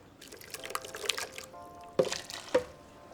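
Broth poured into menudo sauce in a cooking pot, a soft trickle with a few louder drips and splashes near the end, brief and close.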